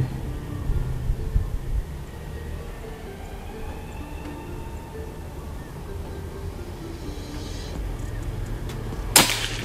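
A locally made PCP air rifle fires once, a single sharp crack near the end after a stretch of quiet outdoor background.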